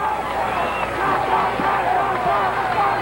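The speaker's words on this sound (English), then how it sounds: "The crowd urging on the 33-year-old athlete from Woodside, California" Crowd at a 1978 World's Strongest Man event cheering and urging on a 33-year-old strongman from Woodside, California, a steady mid-distance roar of voices and whoops filling the scene.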